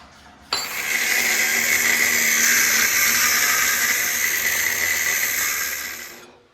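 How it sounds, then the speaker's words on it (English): A power cutting tool slices metal tabs off a steering box flange in a workshop, starting abruptly with a loud, steady, high-pitched grinding whine that holds for several seconds and then fades out. "cutting the tabs off so that we can weld this on"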